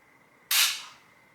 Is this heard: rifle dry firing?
yes